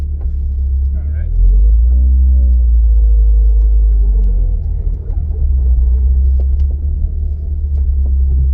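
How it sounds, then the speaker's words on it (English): Car on a test drive with urethane-infused stock motor mounts, heard from inside as a deep steady engine and road rumble, loud and constant throughout. "Test driving with the urethane infused stock motor mounts."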